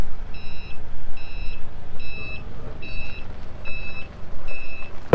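A forklift gives evenly spaced reversing beeps, six clear tones about a second apart, over a low engine rumble and outdoor machinery noise, loud and near.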